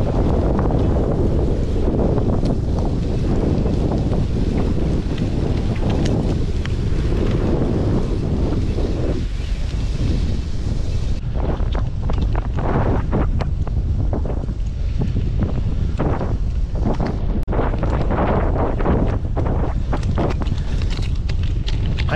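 Strong headwind roars loudly and steadily across the microphone while riding a bicycle fitted with Hutchinson Toundra tyres over sand, a constant buffeting rush with no speech.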